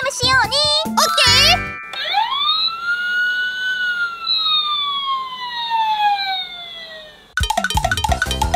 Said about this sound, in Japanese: 大変だ、サイレンが鳴ってるよ。